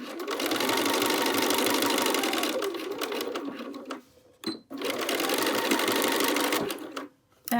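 Sewing machine stitching binding onto a quilted Tamarack jacket, a steady loud whir in two long runs broken by a brief pause near the end, with no talk.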